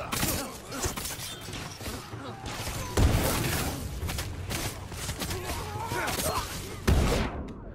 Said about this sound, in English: I hate the flashbangs with a passion.